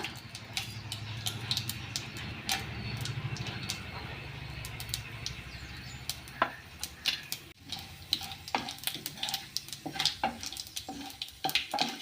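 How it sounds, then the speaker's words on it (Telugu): Chana dal tempering with mustard seeds and cumin in hot oil is stirred in a frying pan: a soft continuous sizzle with sharp spatula clicks and scrapes against the pan, growing more frequent toward the end. "ఈ విధంగా మాడిపోకుండా కలుపుకోవాలా"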